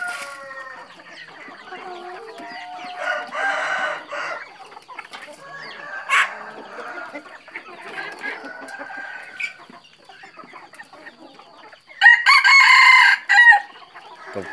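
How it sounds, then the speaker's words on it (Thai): Black capon chicken of about 4.5 kg crowing and clucking nearby, with scattered clucks and short calls over the first half and a loud burst of crowing near the end. "ตัวนี้ไก่ตอนนะครับ"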